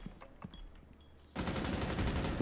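Rapid automatic gunfire from the video game Rainbow Six Siege bursts in loud and continuous after a quiet stretch with faint clicks, filling the last second of the moment.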